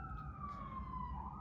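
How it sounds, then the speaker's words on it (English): A faint siren wails in the distance, its pitch sliding slowly downward over low background rumble. "I'm sorry about the sirens."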